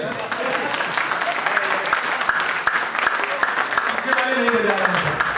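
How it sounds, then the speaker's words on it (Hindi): Audience applause at a Hindi poetry recital, continuous scattered clapping running throughout, with voices and someone speaking faintly underneath it near the end. "तालियां बजाइए।"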